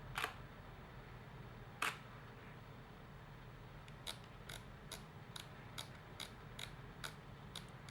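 A Nikon D3300 DSLR shutter fires at a slow speed, giving two crisp, close clicks about a second and a half apart, then a string of quieter, evenly spaced ticks in an otherwise quiet room.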